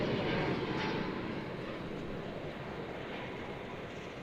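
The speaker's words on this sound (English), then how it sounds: "It's an Airbus A319." A United Airbus A319 arrives at DFW from San Francisco, a faint, distant steady jet roar that fades slightly over a few seconds.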